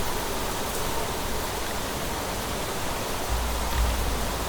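Steady rain in the survival game Planet Crafter, a dense, even hiss of falling water that holds at a constant moderate level for the whole stretch, with a faint low rumble rising near the end.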